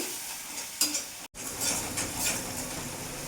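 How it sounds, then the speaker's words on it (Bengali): Spice paste of Kashmiri chilli powder and a splash of water frying in a pan for pomfret curry, a soft steady sizzle with scraping stir strokes and a brief clink near the start, then a short gap of silence. "একটু মশলাটা ভাজা ভাজা করে নেব।"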